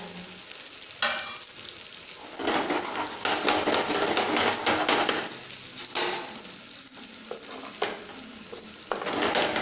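Stuffed green chillies (mirchi) frying in oil, a dense, close, continuous sizzle and bubbling with a few faint clinks of utensils, no voices.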